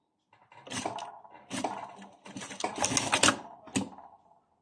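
A sewing machine stitches a dress collar with a one-centimetre seam allowance in several short, close bursts of rapid mechanical clatter separated by brief pauses, with no talk.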